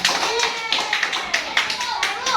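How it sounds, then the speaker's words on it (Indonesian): Classmates clap for a student in a school lesson, a short burst of scattered, uneven hand claps with a voice and teacher talk mixed in. "Tepuk tangan untuk Iqbal"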